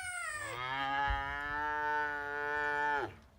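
A cow moo played as a sound effect, one long, loud, drawn-out bellow that rises at the start, holds steady for about two and a half seconds and drops off sharply at the end.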